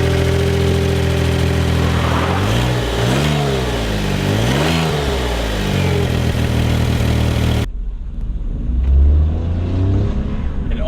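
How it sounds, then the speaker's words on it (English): Loud, close cold start of a small car engine, which revs sharply in two or three rising and falling blips before settling into a steady rumble, then cuts off abruptly near the end. "we're gonna do cold start."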